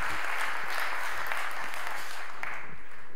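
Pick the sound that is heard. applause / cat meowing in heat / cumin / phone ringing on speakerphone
applause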